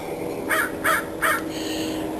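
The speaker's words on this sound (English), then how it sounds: "see, we have crows in the neighborhood too" Crows in a residential neighborhood caw three times in an even rhythm over about a second, moderately near and clear above a quiet background hiss, with no one talking.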